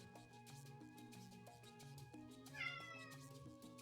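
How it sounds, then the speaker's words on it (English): Murphy the cat lets out a single clear meow partway through, heard over steady background music. "Murphy, go ahead and meow again."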